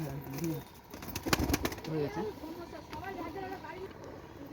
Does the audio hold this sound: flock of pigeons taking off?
yes